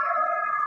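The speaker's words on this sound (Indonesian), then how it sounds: "Ada apa ambulan rame-rame ya?" Ambulance siren passing outside, a steady wailing tone held loud and close for a brief moment, sounding alone with no talk over it.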